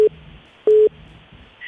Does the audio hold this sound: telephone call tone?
yes